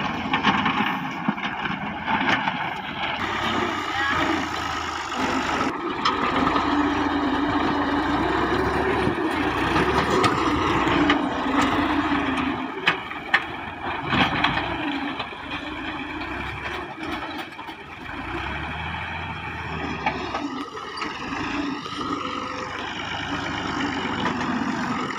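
A farm tractor engine running steadily outdoors, a continuous loud droning rumble with occasional wind buffeting on the microphone and small shifts in pitch and load.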